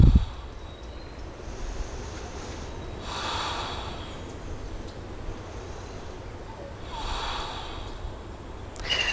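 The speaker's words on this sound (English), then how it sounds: "Taking three deep breaths" Slow, deep breaths close to the mic during a yoga session, taken while holding a standing pose with Mula Bandha engaged. Two long, airy inhale-exhale swells stand out over a low hiss, with no voice.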